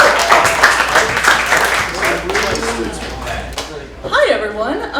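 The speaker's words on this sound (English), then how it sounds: "Once again, give it up for Sela!" Applause and cheering from a comedy club audience welcoming a stand-up comedian, dense clapping with some laughter and a voice over it, swelling again near the end.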